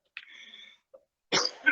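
A coughing fit during a church sermon: a raspy throat sound, a brief catch, then a sharp, loud cough burst near the end, heard alone without talk.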